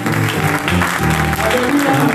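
A church congregation applauding and cheering, loud dense clapping mixed with voices calling out, steady throughout.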